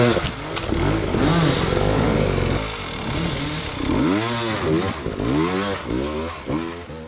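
An enduro dirt bike engine revs hard under throttle on a race course, with repeated rising and falling pitch sweeps and a rough, loud exhaust, some clatter between bursts.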